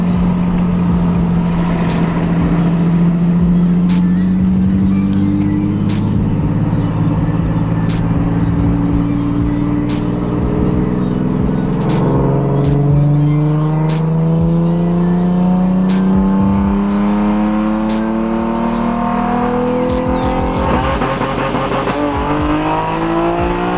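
Loud car exhaust revving nearby, the engine note rising and falling in long sweeps with aggressive throttle blips, a sound far louder than a mostly stock exhaust.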